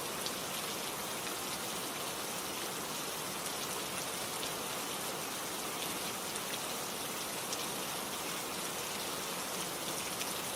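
Steady rain falls in a dense, even patter that continues without a break, with a constant hiss and no voices.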